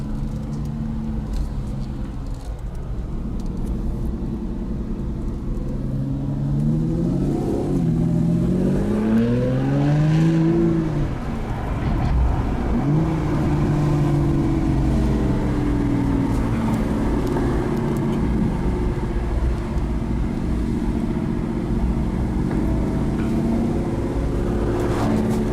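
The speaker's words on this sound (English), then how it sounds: "I tell you, this is a torquey engine. Like, as soon as you just get a tiny bit of throttle," An Aston Martin Rapide's engine revs under throttle, heard from inside the car. A steady drone rises and falls through several swelling pulls over a constant road rumble.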